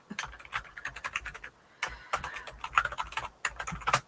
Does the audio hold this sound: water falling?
no